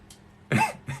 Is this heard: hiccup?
yes